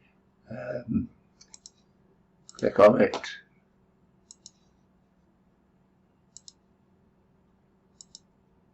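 A computer mouse gives a few sharp, quiet clicks, mostly in close pairs spaced a second or two apart, with brief speech near the start.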